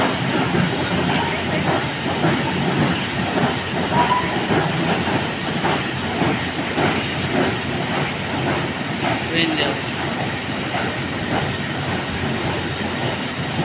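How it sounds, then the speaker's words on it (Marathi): A train rolls steadily along the rails, a continuous rumbling clatter with rhythmic wheel clicks, close and loud throughout. "अशा तऱ्हेने रेल्वे खालच्या दिशेने जाताना दिसत आहे आपल्याला"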